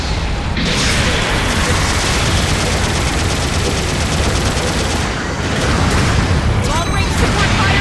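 Long-range support fire in a mobile suit game pounds the arena, a dense, loud, continuous wall of explosions and rumbling blasts with scattered sharper impacts, barely easing for the whole stretch, with game voices underneath.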